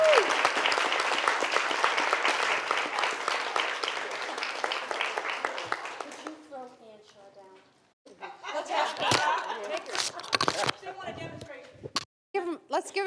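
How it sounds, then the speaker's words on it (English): An audience applauds for Becky Sheets as she leaves the stage, a dense burst of clapping that thins out and fades after about six seconds, followed by scattered claps and talking voices. "one more round of applause for Becky Sheets"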